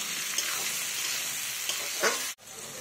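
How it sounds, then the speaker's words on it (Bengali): Onions being stirred while frying in oil for a 3 kg pot of Bengali chicken kosha, a continuous hiss and sizzle with scraping stirs, ending in a sudden brief drop before the frying noise resumes. "পেঁয়াজগুলো ভালো করে নেড়ে নেব,"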